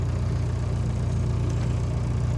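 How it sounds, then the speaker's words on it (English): A diesel Jeep Wrangler YJ engine idles steadily, a deep continuous low rumble with even pulsing, close and unbroken throughout with no talk. "See, sitting there idling."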